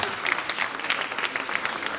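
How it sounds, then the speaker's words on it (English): Audience clapping at a China trade week event in Nairobi, Kenya, a brief burst of continuous applause from a crowd, moderately loud and even throughout. "So please clap for me."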